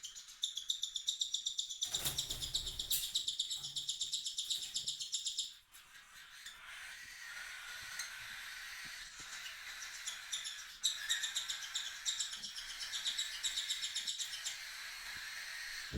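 Nestling birds at a live feeding chirp and tweet in rapid, shrill bursts close by, with a brief rustling scuffle partway through and the insistent begging calls continuing to the end.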